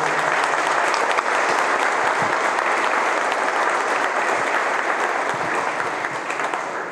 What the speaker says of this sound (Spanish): Vamos a aplaudirlo también